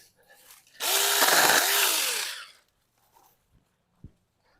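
A Saker Mini electric chainsaw cuts through a small stick in one loud, close, high-pitched buzzing burst of under two seconds. It winds down afterward, and a few faint clicks and taps follow.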